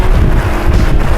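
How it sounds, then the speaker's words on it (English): Strong wind roars and buffets the microphone at an outdoor gold prospecting site, a constant loud rumbling gust with no voices. "And it's windy."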